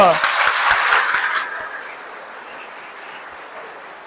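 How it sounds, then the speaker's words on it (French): A conference audience claps for themselves in a brief burst that fades out after about a second and a half, leaving quiet room tone with faint murmurs. "Si elle vous a plu, applaudissez pour vous-même."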